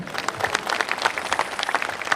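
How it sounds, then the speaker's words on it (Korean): An audience at a Korean War anniversary patriotic cultural festival claps after a poem recital, a lively burst of many hands with distinct sharp claps standing out near the front. "감사의 박수 보내주시고요"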